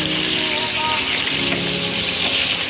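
Pangas fish fry in oil in a wok with a loud, dense, continuous hiss and sizzle that stays close and even from start to finish.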